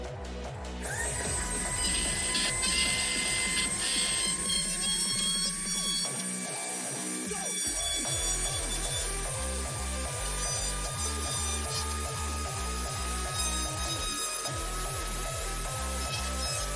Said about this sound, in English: Just got to drill that out.